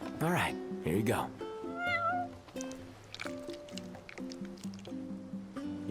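A cat meows in Final Fantasy XV, two loud meows up front and a softer one after, heard over light game music and squishy eating noises.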